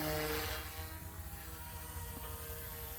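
Scale Airwolf RC helicopter in flight, a steady whirring rotor and motor buzz with a constant electric whine, close and fairly quiet.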